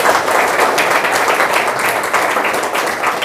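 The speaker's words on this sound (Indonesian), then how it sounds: "Tepuk tangan untuk TPL." Audience at a school sponsorship event claps together in a steady burst of many hands, loud and nearby, with no talking.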